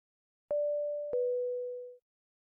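Two steady electronic telephone tones, the second starting before the first fades, clean and loud against silence.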